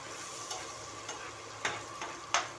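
Onion frying in oil in a pan, a soft steady sizzle with a few sharper crackles and stirring scrapes scattered through, close and moderately quiet, with no voices.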